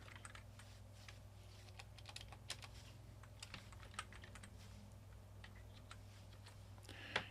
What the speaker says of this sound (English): So just type in your login name,